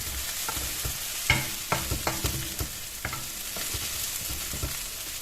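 Pork with crushed ginger and garlic being stir-fried in a pan, a close steady sizzle broken by repeated scraping and clacking strokes of a spatula.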